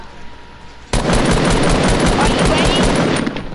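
Rapid automatic gunfire in the Fortnite video game erupts suddenly while the players shoot down Dusty. A loud, sustained stream of shots runs for several seconds after a brief spoken line.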